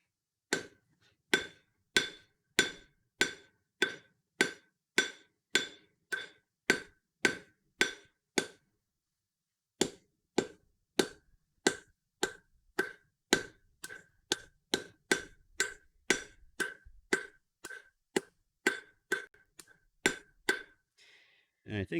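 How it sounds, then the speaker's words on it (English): Hammer blows on hot metal being forged ring out in a steady, rhythmic series of sharp clanks, roughly two per second, pausing once briefly before resuming, close and clear with no talking. "let's keep forging this out here"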